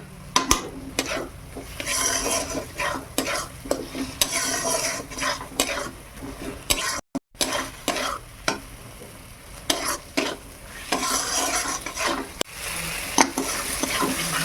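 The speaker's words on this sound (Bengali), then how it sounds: "মশলা খুব ভালোভাবে ভাজা হয়ে গেছে" Spices with Kashmiri red chili and tomato fry in a pan for a chicken dish, with a steady sizzle under repeated scraping strokes of a spoon stirring against the metal. The stirring briefly pauses once.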